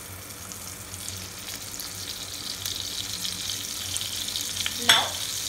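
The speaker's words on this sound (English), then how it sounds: "Our oil is nicely heated up, so we are going to fry the paneer or cottage cheese." Paneer cubes frying in hot oil, a soft steady hiss that builds slightly, with a brief sharp clink near the end and no voices.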